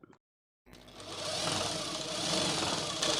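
After a short silence, a sewing machine stitching saree falls starts up and runs in a steady, fast, close mechanical whir to the end.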